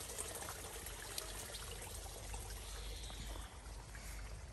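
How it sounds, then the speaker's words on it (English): Garden pond waterfall in an English garden in June, water trickling and pouring steadily at moderate distance, a soft continuous splashing with no voices. "we're at the top of the pond, with the waterfall coming down"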